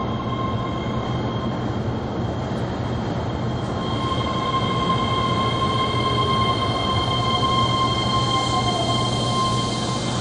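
A train rumbles steadily at close range at a Japanese station platform, a low continuous roar of wheels and motors with faint squealing tones running throughout.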